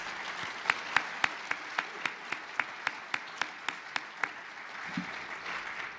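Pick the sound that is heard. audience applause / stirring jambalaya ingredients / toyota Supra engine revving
audience applause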